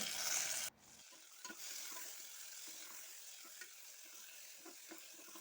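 Onion and chopped tomato sautéing in a pan for a children's lunch box dish, a steady soft sizzle with occasional stirring scrapes, after a brief louder burst at the start.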